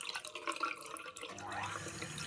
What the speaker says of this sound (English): Let's have a look at the taps, and you can see how much water pressure it's got